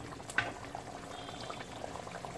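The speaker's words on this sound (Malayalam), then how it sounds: "മീൻകറിയുടെ അരപ്പൊക്കെ നന്നായിട്ട് തിളച്ച് കുറുകി വന്നിട്ടുണ്ട്" A spicy sardine curry with red chilli masala boils and thickens in a pan, giving a steady, soft bubbling and popping that stays fairly quiet and continuous throughout.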